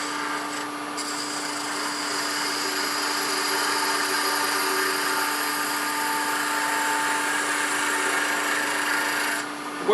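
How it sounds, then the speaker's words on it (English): A wood lathe spinning while a small 1/4 inch round skew takes a fine planing cut, producing a continuous, even scraping whir with a steady tonal hum, loud and close, with no speech. "I want to show you some of the cuts with this little 1/4 inch round skew. It's good for a planing cut."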